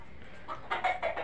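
A desi (gavrani) hen clucking nearby, a short run of four or five bright clucks in quick succession after a quiet start.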